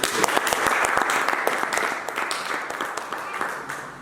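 A church congregation applauds with dense, lively clapping that holds steady throughout, close and fairly loud, with a voice speaking over it.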